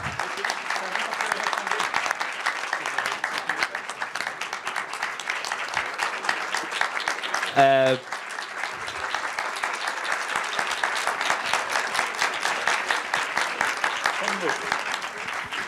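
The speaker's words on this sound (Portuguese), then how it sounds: "Uma salva de palmas, Ciro." Sustained audience applause at a lecture fills the whole stretch, dense and steady, with a brief voice cutting through midway.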